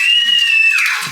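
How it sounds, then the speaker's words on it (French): A child screams shrilly while playing indoors, one sustained high-pitched squeal held close and loud, then bending downward and breaking off. "il adore jouer en criant comme ça"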